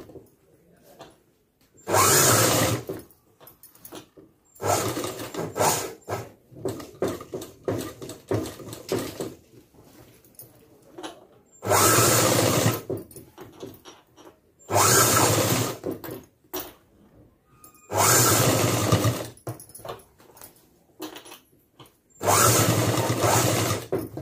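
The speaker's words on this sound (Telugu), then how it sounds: "సో అందుకోసం నేను ఒక మిషన్ కుట్టు అనేది వేసేస్తున్నాను." A sewing machine stitches a blouse in several loud, sustained runs of a few seconds each, separated by quiet pauses.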